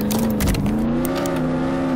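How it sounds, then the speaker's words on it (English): A Bugatti in a video game speeds off with a loud, sustained engine tone that rises slightly in pitch, a smooth steady whine from start to finish. "Gotta get a Bugatti, and let's go speed off all the way to, let's see,"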